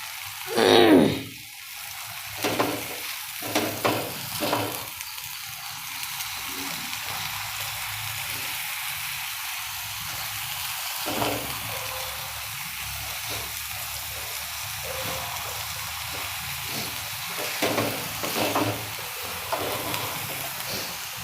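A green chili halwa mixture roasts in a pan over low heat, sizzling and bubbling steadily as it is stirred, with occasional scraping strokes and brief louder bursts near the start.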